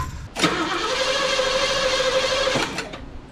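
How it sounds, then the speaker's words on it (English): A 1974 Gran Torino Elite with freshly installed spark plugs cranks over at an even, steady pace for about two seconds, moderately loud and close, before the starter stops. "Let's listen to that crank"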